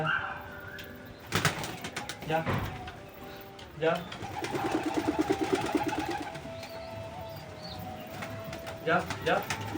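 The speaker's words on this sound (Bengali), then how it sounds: "এখন আমাদের টোটাল পাঁচটা পায়রা আছে ওই পাঁচটাকে আমরা বার করি" Several pigeons, five birds including a young pair out for the first time, coo in soft repeated bursts with some wing flaps, close by, under steady talking.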